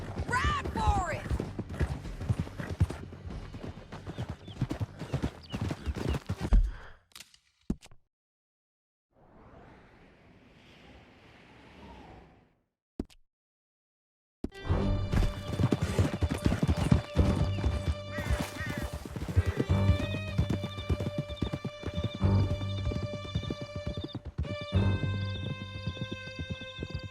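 Horses galloping in the Red Dead Redemption 2 video game: loud, dense hoofbeats with whinnies over a music score, cut by a short quiet gap of wind before the pounding hooves and music return.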